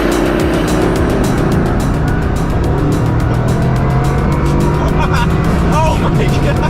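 A Bugatti supercar launches hard from a standstill, its engine roar building into a loud, continuous rush of acceleration with tire noise, as people talk excitedly over it throughout.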